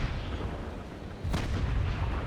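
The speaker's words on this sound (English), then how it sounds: "these top cannons are actually not cannons but carronades. You can hear the difference when they fire" Carronades on a sailing warship fire a broadside in the Naval Action game, a deep rumbling boom that swells at the midpoint into a sharper crack with a sustained low roar, loud and close.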